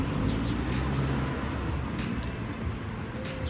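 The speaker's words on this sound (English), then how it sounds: "Car." A car passes by outdoors beside a lawn, a steady broad road whoosh that swells and slowly fades, mid-distance and alone.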